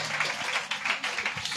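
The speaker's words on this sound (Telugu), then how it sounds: "చప్పట్లు కొట్టి స్తోత్రం చెప్పండి." A church congregation claps in praise during a Sunday worship service, a dense, steady patter of many hands carrying on for a short stretch at moderate volume.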